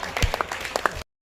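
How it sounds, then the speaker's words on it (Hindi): Brief burst of audience clapping at a Hindi poetry gathering (kavi sammelan), honouring a guest; scattered claps for about a second, then cut to silence. "तो तालियां बजा दो इस अतिथि के सम्मान में।"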